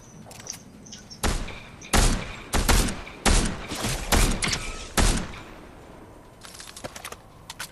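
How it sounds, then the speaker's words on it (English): Loud, sharp gunshots crack in a Fortnite match, about eight in an irregular sequence with short gaps, then fainter scattered shots trailing off. "Is the bot shooting us? No, it's the guy sniping."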